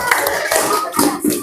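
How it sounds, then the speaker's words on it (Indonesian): Group members and audience in a teacher-training workshop room clap for a presenting group, a short, brisk burst of close hand claps with a few uneven accents. "Kita kasih tepuk tangan untuk kelompok Sa."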